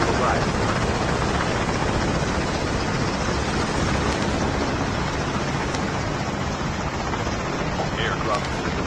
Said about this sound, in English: The revived flight will arrive.